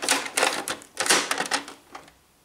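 Canon MG2550 inkjet printer running its initialization cycle, a series of loud mechanical clattering bursts and whirs in uneven rhythm, close by, fading out near the end with no talking.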